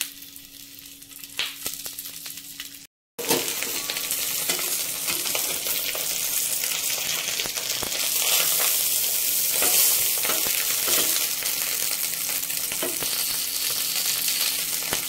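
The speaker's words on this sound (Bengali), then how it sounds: "এবার কলা পাতা যে মুড়িয়েছি সেই মাছটা দিয়ে দেবো।" Chuna fish parcels wrapped in banana leaf fry in hot oil in a pan, giving a steady, close sizzle after a brief silence as they are set down.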